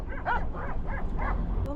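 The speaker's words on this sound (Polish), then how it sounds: "Co za głupi pies." A herding dog guarding a flock beside a road in Georgia gives four quick, rhythmic barks or yips, fairly close and loud over a constant engine rumble.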